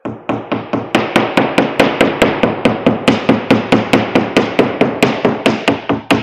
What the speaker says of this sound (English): So I have to do hammering over here.